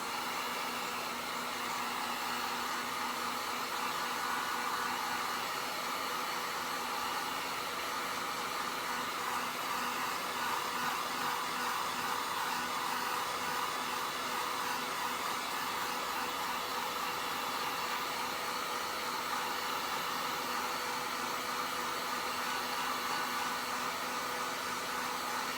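A hair dryer blows steadily and quietly for the whole stretch, drying a Dollar Tree ornate frame sign, an even whooshing hiss with a faint motor hum and no voices.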